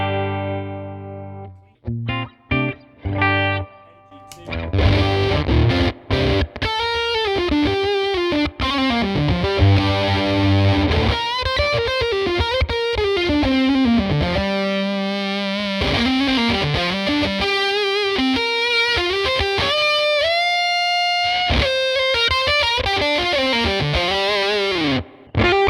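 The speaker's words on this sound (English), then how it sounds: "If you're looking for a really smooth kind of fuzz tone, quite dark, then maybe this will work for you." Electric guitar through a Cornerstone Nero Fuzz pedal into a Lazy J J10 amp, playing a loud, continuous run of smooth, dark fuzzed notes and bends with sustained distortion, after a few brief choppy stabs at the start.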